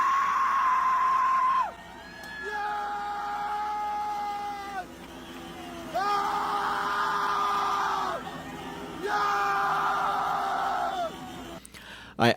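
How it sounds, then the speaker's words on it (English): Crowd in Iran yelling and whooping as a Khamenei monument is torn down, with long, loud, sustained cries rising and falling in several waves close to the recorder and a brief sharp burst at the end. "listen to the passion and excitement in the crowd"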